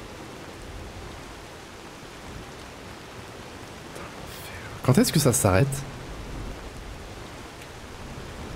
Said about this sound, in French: Quand est-ce que ça s'arrête la pluie?